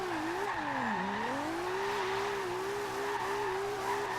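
A modified Toyota Supra drifting in Forza Horizon 2, its engine holding a steady high drone that dips and rises with the slide, tires squealing continuously, loud and close with no talk.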